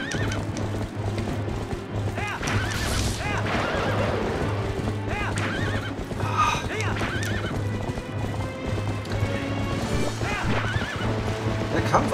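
Epona the horse gallops with rapid clip-clop hoofbeats and repeated neighs and whinnies in Zelda: Twilight Princess HD during a mounted battle, steady and loud over game music and effects, with a player talking at times.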